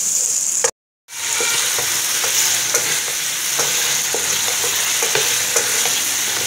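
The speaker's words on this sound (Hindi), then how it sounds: "दूसरी साइड पे हम अपना चिकन फ्राई करते हैं" Chicken pieces frying for chicken biryani in a pan beside cauliflower, a steady loud sizzle with occasional stirring clicks, broken by a brief silent gap near the start.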